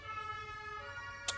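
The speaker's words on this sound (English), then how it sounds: "Unlucky that an ambulance had to come past at that moment" An ambulance siren wails as it passes on the street, a steady tonal sweep at moderate distance with traffic rumble beneath, ending in a short sharp burst.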